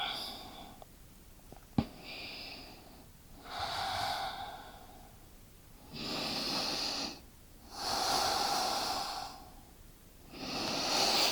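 Slow, deep breaths during a seated yoga forward fold come as long airy inhales and exhales in a steady rhythm, close and soft, with a sharp tap early on.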